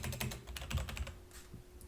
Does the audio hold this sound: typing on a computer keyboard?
yes